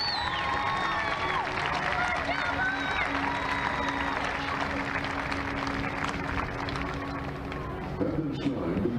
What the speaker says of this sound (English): Let's give these two teams a round of applause for their great success.